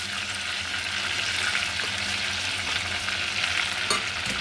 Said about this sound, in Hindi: बटर जब पिघल जाए तब हम इसमें डाल देंगे जितने भी खड़े मसाले हमने लिए हैं